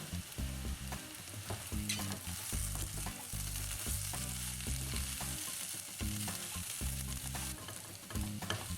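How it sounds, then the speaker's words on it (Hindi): Dhaba-style gobhi aloo with fried cauliflower fries in a pan, a loud steady sizzle broken by rhythmic scraping strokes of a spoon stirring gently throughout. "बहुत ही सॉफ्ट हाथों से इसको चलाएंगे"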